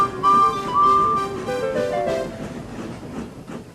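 A train pulling into a large station, with a steady loud rumble and tonal squeals or whistles early on that fade as it slows.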